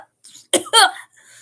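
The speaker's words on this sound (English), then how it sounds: "How long have you had that cough?" A man coughs in a short, harsh double burst, close and clear, with a faint breathy sound before it and a brief raspy tail after.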